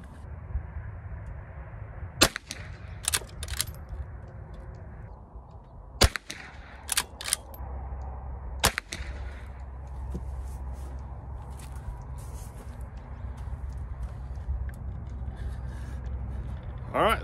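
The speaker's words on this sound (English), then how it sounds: "so we're going to take a few shots and see how it goes" Sharp, separate rifle cracks from a Henry .22 lever action at an outdoor range, several spaced shots fired over steady background noise, with faint voices murmuring in between.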